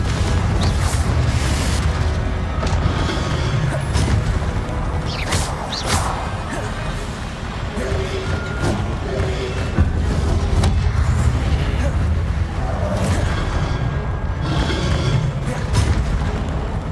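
Fire spell explosions from Confringo casts in Hogwarts Legacy, loud crashing booms and thwacks repeating through busy magical combat, with sharp bursts and a heavy low rumble.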